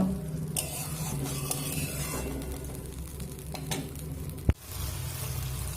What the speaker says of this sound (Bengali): মশলা আর পনিরের মধ্যে ডাল দিয়ে আবারও খুব সুন্দর করে আমি কষিয়ে নিয়েছি